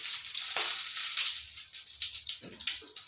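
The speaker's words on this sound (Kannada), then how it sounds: "ಈಗ ಕರಿಬೇವು ಹಾಕ್ಕೊತಾ ಇದ್ದೀನಿ" Curry leaves and cumin sizzling in hot oil for a ridge gourd stir-fry, a bright, steady crackle close by with a couple of sharper bursts as they hit the pan.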